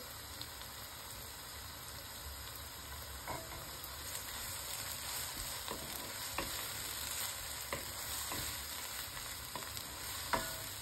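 Biryani fries in a pan in a home kitchen and is stirred, a steady sizzle running throughout with frequent light scraping stirs, close and moderately quiet.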